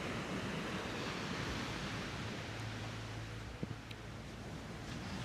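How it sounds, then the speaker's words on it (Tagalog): Strong ocean waves on the beach at San Felipe, Zambales, a dense continuous roar of surf mixed with wind noise on the microphone, broad and steady with a brief knock partway through. "Kanya lang nasaktuhan namin ngayon na medyo malakas yung alon."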